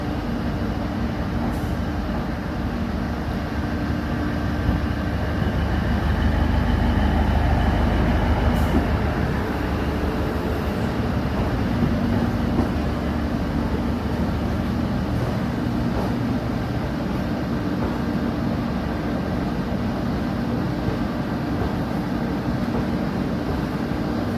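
Passenger train pulling into a station in a Jammu and Kashmir valley, a low continuous rumble of rolling wagons that swells slightly midway, with faint rattles and no clear talk.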